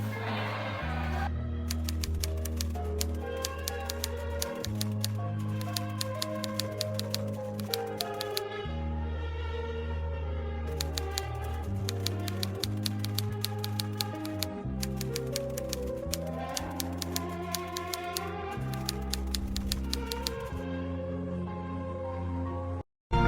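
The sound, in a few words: typewriter typing the proclamation text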